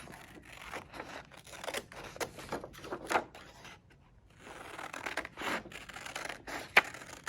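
Scissors snip through paper in a series of short, close cuts with brief rustles between them, a pause midway, then more cutting.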